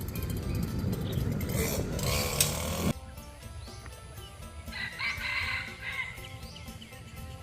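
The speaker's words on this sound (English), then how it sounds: "Now you know where all of the world champ chicken fighters come from." Roosters crow and chickens cluck outdoors in Thailand, with a loud burst in the first few seconds giving way to quieter, scattered calls and bird sounds over steady background noise.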